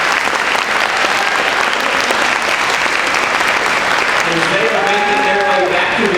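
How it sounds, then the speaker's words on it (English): Sustained applause from a graduation ceremony audience fills the space, with dense, steady clapping throughout and a voice speaking over it near the end. "Let's give these students another round of applause."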